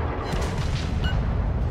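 A loud, booming volley from the naval guns of an Omaha-class cruiser fires at an enemy ship during a World of Warships naval battle, with a heavy low rumble filling the short moment.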